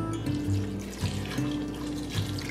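Warm milk pours into cooked potatoes in an Instant Pot for mashed potatoes, a steady close liquid splash and trickle running throughout with no voices.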